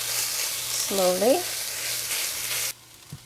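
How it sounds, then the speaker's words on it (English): Tomato paste frying with ground beef in a pot, a steady close sizzle and stirring that cuts off sharply near the end, with a short spoken word over it. "I like developing the flavor of the tomato paste by frying it."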